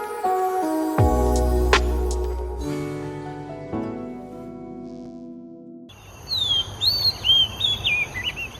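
An Oriental magpie-robin (doyel) singing: bright, varied whistled phrases repeat near and clear in the final few seconds, after a stretch of tonal music with no talking.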